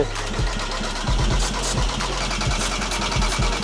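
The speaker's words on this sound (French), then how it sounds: "Elle veut pas démarrer l'auto." A Volkswagen TDI diesel car engine cranks repeatedly without catching, a loud, steady, rhythmic churning of the starter that pulses in short regular beats for several seconds, with no voices over it.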